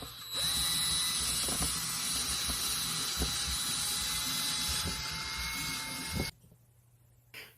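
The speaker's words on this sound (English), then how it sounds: "Now I'm using a 9/32 inch bit." A power drill bores a 9/32 inch hole, angled for fishing line, in a homemade kid's fishing rod. It gives a steady, close, continuous whine for about six seconds, then stops abruptly.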